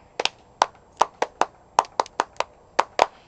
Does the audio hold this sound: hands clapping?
yes